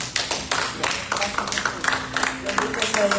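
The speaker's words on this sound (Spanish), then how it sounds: "denle un fuerte aplauso al Señor" A church congregation claps together in a strong, steady round of applause, dense rapid hand claps at moderate distance, with a sustained tone from a keyboard or organ underneath.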